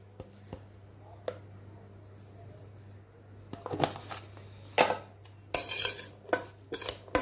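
Vegetable manchurian mixture being mixed with salt and pepper in a bowl, quiet at first, then a run of loud clinking spoon-on-bowl scrapes and taps growing busier toward the end.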